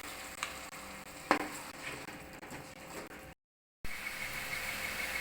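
Chinese-style pepper chicken sauce sizzles and bubbles steadily in a pan after a little water is added, with a sharp clink partway through and a brief moment of silence near the end.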